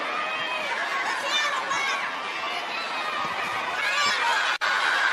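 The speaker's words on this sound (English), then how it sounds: "you could hear the reaction by the Filipinos in the crowd" Filipino fans in a boxing arena crowd roar in a sustained, dense wall of cheering and chatter that holds steady throughout, with a brief sharp dropout near the end.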